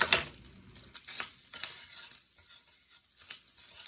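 Lard crackling in a hot pan while cooking a potato dish, a soft steady sizzle with scattered pops and a few stirring scrapes, close and fairly quiet.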